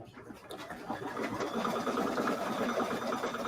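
An embroidery machine sewing a blanket stitch around the pupils of a turkey design on a trivet, a continuous close mechanical whirring chatter of the needle that builds and holds steady.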